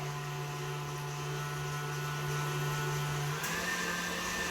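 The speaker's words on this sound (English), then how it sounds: "I'm currently beating sugar, so I apologize for all the noise" Electric mixer beating sugar in a home kitchen, a steady close motor whine and drone that holds throughout and shifts pitch slightly near the end.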